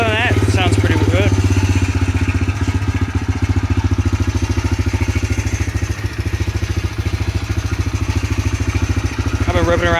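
An ATV engine idles steadily with a rough, rattling exhaust putter from a rotted-out exhaust, close and loud throughout.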